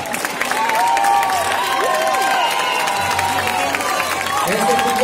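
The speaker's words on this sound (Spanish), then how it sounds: "un gran aplauso para poder aquí" At an outdoor historical reenactment of a pirate landing in Cullera, a crowd applauds and cheers steadily, with whistles and raised voices mixed into the continuous noise.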